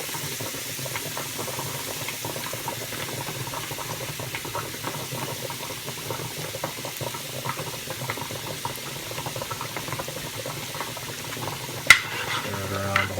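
Butter and garlic sizzle in a pan as shrimp is being prepared, a steady close crackling fry with soft scraping of a utensil being stirred through it and a brief clatter near the end, with no talking.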